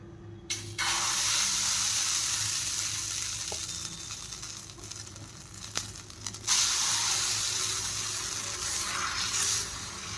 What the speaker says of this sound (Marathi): जे पीठ आहे ते मी टाकून घेणार आहे.